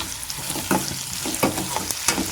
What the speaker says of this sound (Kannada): ಹೆಚ್ಚಿಟ್ಕೊಂಡಿದ್ನಲ್ಲ ಈ ಆನಿಯನ್ ಹಾಕ್ತಾ ಇದ್ದೀನಿ